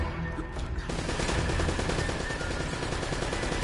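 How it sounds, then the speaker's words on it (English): Rapid automatic gunfire in the Uncharted video game, a loud continuous rattling burst that kicks in after a brief quieter opening and hammers steadily to the end. "only shooting until I can get a clear shot"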